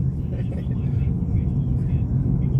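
A car drives in highway traffic on I-4, a steady low rumble of engine and road noise heard from inside the vehicle, with a person talking over it.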